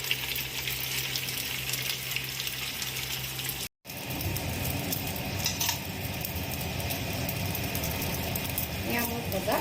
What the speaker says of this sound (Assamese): ইয়াত মই এটা এটাকৈ দি এইখিনি ভাজি ল'ম